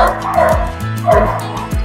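Dogo Argentino barking in deep, loud, close bow-wow barks, three to four in quick succession with whiny yips between them.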